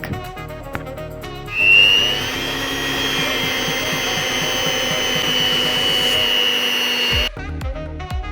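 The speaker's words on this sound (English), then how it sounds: "Mix the margarine slowly while in the mixer until smooth." An electric mixer kneads bread dough with margarine, a loud steady motor whine and hum with a faint rhythmic churning. It swells briefly near the start and cuts off near the end, where soft background music can be heard.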